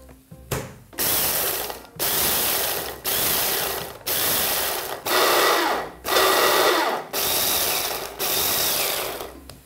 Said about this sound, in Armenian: ընդհանրապես ջարդում ենք սերմերը։